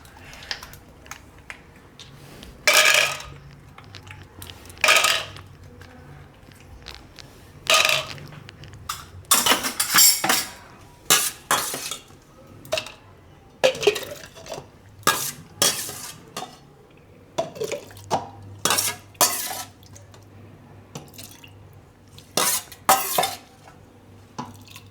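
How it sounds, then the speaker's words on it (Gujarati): Ice cubes tumble into a mixer jar for pomegranate juice, giving a series of sharp, close clinks and clatters in irregular bursts, with quiet gaps between drops. "થોડોક બરફ નાખીને આ રીતે મિક્સર જારમાં પહેલાં બરફ નાખીશું"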